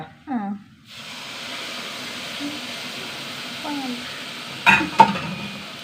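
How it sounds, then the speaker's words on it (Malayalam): Milk hits ghee-roasted semolina in a hot pan with a steady, close sizzling hiss that holds throughout. A voice speaks briefly at the start and softly midway, and a couple of clinks come near the end. "ഇത്രയും പാൽ ഒഴിച്ച് കൊടുക്കാം"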